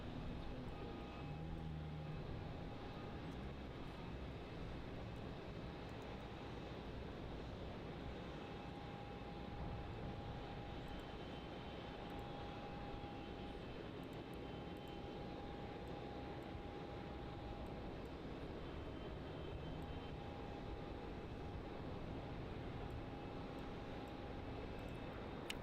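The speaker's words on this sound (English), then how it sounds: "this is QR988 from Doha, the Qatari 777-300ER" A Qatar Airways Boeing 777-300ER landing at Melbourne Airport makes a faint, distant, sustained engine rumble with a thin steady whine layered over it, and voices talk quietly at points.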